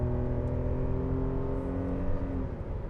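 A BMW E38 750iL V12 engine pulls hard with a steady, smooth multi-toned roar, close and continuous throughout.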